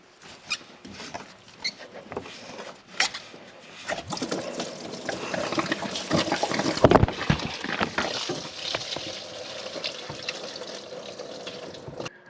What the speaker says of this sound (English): I'm just gonna let this drain out.